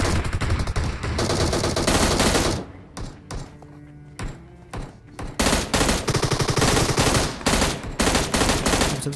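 Rapid automatic gunfire in PUBG Mobile as a Groza-armed enemy is taken down, loud dense bursts for the first few seconds, a short sparse lull with scattered shots, then heavy sustained firing resuming to the end.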